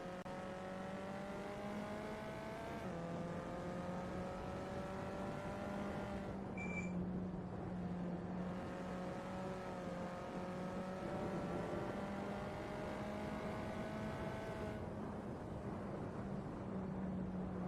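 A VW Up Cup race car on a flying lap holds a steady, droning engine note at moderate distance, with a few brief shifts in pitch.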